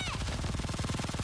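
Rapid automatic machine gun fire from the shooter game Nikke, a dense, fast, even burst of shots held loud and close throughout with no pause.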